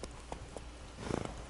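A horse in The Witcher 3 video game, its hooves clip-clopping at a steady pace that quickens into a faster run. The hoofbeats stay soft and fairly distant.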